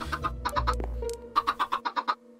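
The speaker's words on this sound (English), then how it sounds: "Little chickens everywhere." Chickens in the Minecraft video game cluck in a quick run of short, clipped calls, close and clear with no talking over them.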